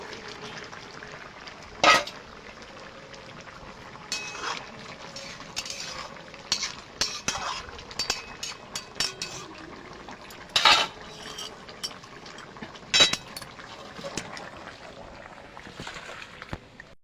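Rohu fingerlings are added to a thin curry of flat beans and potatoes simmering in a pan, and a ladle stirs them in with soft scrapes, light clinks and sharp metallic knocks against the pan at a few points.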